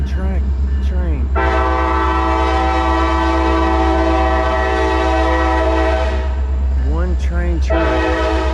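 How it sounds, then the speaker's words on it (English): A train on a single-track line near a city creek sounds a long, steady horn blast that fills most of the clip, with voices talking before and after it over a constant low rumble. "That is a one-track train."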